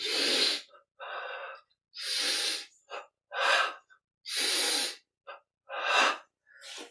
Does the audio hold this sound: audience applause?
no